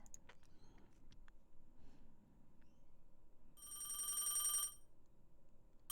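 A telephone in a video game rings in one sustained electronic burst with a bright, buzzing tone, preceded by quiet clicks and soft background hum.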